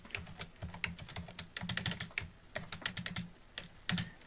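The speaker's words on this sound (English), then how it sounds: "I'm just typing it out fairly simply." Steady, quick keystrokes on a computer keyboard, clicking in uneven bursts with brief pauses between runs, close by and fairly quiet.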